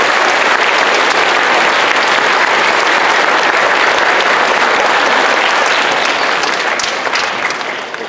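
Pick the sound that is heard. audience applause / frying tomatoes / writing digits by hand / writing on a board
audience applause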